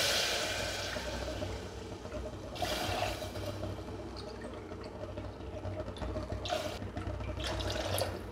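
Water pours into a cooking pot for foxtail millet khichdi, a soft continuous splashing flow with a few louder gushes, quiet and close with no talking.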